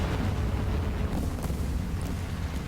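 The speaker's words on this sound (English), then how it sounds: "My squad mate bombs a few guys on the cap" Bombs exploding on the Karelia map in War Thunder, a short burst of deep rumbling blast noise, loud and continuous with no voices.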